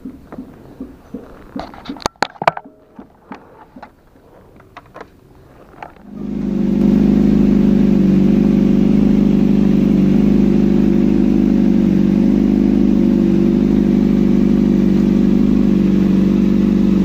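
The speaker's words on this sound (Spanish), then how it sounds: "decidimos ir a calar su motocicleta" A Yamaha R6 motorcycle fitted with a new AGM battery starts up after some clicks and handling sounds, then idles loudly and steadily close by with a constant engine drone.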